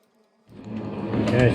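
A Cincinnati milling machine cuts T-nuts at a 40 thou depth of cut with a 10 thou step over; after a brief silence a loud, steady buzzing cut starts and grows a little stronger.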